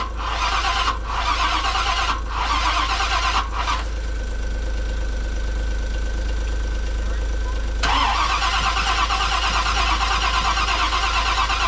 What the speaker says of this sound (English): we're trying to see if it's going to start